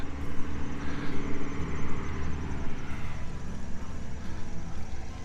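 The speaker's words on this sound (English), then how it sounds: "It's a tractor, not a truck." A farm tractor drives past on a road beside a garden, its low engine rumble and rattling steady and fairly near throughout, with faint outdoor ambience behind it.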